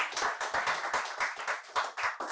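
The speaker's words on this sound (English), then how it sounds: "Please, let's give her a round of applause." Audience at a fireside chat clapping for a guest, a small group's separate hand claps forming a light, uneven patter over about two seconds.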